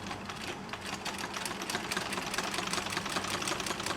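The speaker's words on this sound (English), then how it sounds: "The whirling sound of the sewing machine means Farman from Myanmar is making her hair accessories." A sewing machine whirs steadily and close by, its rapid needle chatter continuous throughout with no talking.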